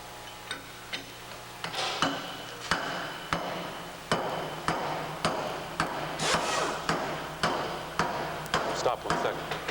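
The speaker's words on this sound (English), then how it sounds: "you can literally strike on the block of wood and drive the wear ring in with the block of wood" A hammer strikes a wooden block to drive a wear ring into a Cornell pump during assembly, with a series of sharp, fairly close knocks at an uneven pace over a quiet workshop background.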